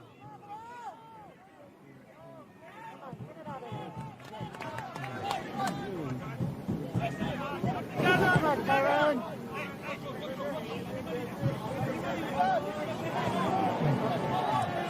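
Quiet crowd murmur and scattered chatter in the stands at a UNH vs Oregon State college soccer game, a low steady babble under close commentary talk.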